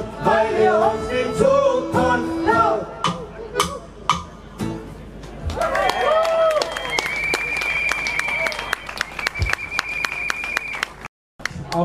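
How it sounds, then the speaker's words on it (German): Crowd applause at a Monday demonstration against Stuttgart 21, a dense patter of claps spread over several seconds, mixed with voices and music tones and breaking off near the end. "auch von uns Applaus"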